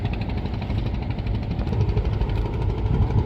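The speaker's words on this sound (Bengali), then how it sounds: "ট্রলারগুলো চলছে ছন্দে ছন্দে" A Sundarbans fishing trawler's engine runs steadily with a low, rhythmic chugging drone, close and constant throughout, with no one talking.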